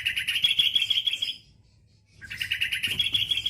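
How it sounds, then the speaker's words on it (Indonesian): Bright, rapid song of a sooty-headed bulbul in repeated chirping phrases, loud and close, broken by a brief pause of near silence before the singing resumes. "kicauan burung kutilang ini kakak"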